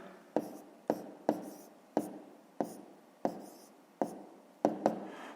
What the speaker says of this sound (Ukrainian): записуємо тоді відповідь, пишемо відповідь